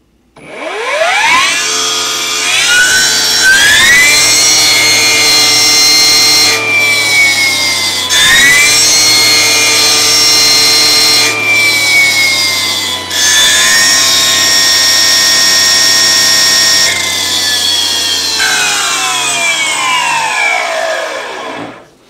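A Makita MUR013GZ cordless brush cutter, a 35cc-class machine running in high torque mode, spins up to a loud, steady, high whining drone with slight dips in pitch, then winds down at the end, close and alone.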